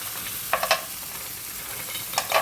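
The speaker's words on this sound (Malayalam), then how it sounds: "നമുക്ക് കുറച്ച് കാഷ്നട്ട് ആഡ് കൊടുക്കാം കേട്ടോ." Cashew nuts dropped into a hot frying pan while cooking paneer butter masala: two short bursts of crackling sizzle and scraping, separated by a quieter hiss of frying.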